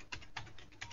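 Typing on a computer keyboard, heard as four quick, quiet keystrokes in an irregular rhythm in a quiet room.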